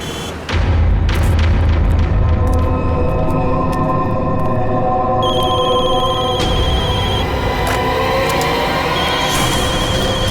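Telephone ringing in a dramatic crime-series scene, a loud insistent ring over a heavy booming music bed, running continuously for about ten seconds.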